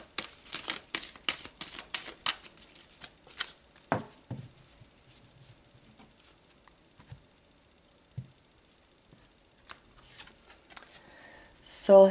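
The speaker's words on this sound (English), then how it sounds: "let's pull some more cards" Tarot cards are shuffled in quick, papery riffling bursts up close for about four seconds, then a few soft slides and taps as cards are drawn, with quiet pauses between and a brief rustle at the end.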